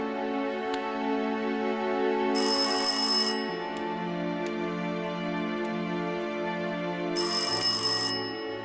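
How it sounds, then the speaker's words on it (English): A telephone bell rings in two bursts of shrill, steady ringing, each about a second long and several seconds apart. A low hum and continuous tonal music play underneath throughout. "the skirling of my bedroom telephone bell wakened me"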